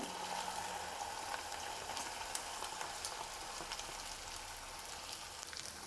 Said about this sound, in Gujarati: તેલ ગરમ થતાં સમારી રાખેલો ભીંડો કઢાઈમાં ઉમેરી દેશો.